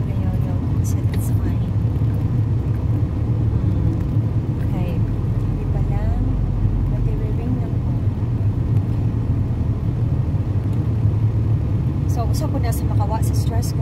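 A car's engine rumbles steadily in the low range while driving, with a person talking over it throughout.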